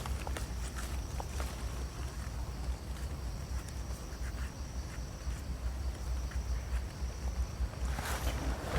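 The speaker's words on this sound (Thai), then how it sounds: "เสียงลม" Steady wind rushes and buffets the microphone with a low rumble, a few light knocks and rustles scattered throughout.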